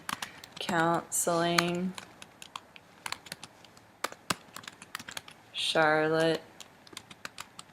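A computer keyboard clicks with quick, light keystrokes as a search is typed into Google, with scattered taps running through the pauses while someone speaks in short phrases over and between them.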